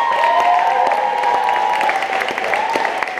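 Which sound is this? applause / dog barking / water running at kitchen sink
applause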